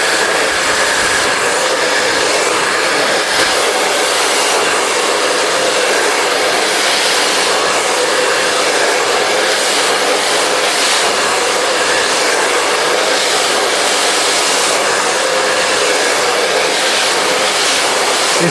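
A hand-held blow dryer runs steadily on hair while it is brushed and rolled for an in-turn blow-dry on a razor or feather haircut, a loud continuous airy roar with no pauses.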